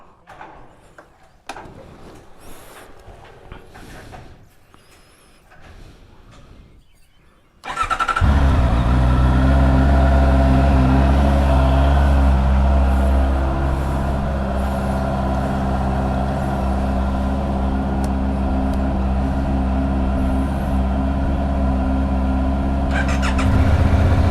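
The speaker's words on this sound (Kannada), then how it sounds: "ಎರಡು ಗಾಡಿ ವಾರ್ಮ್ ಬಿಡೋಣ" Kawasaki Ninja 650R and Suzuki GSX-8R motorcycles start up and warm up after a stretch of quieter background with voices, then a loud, steady idling engine drone continues close by.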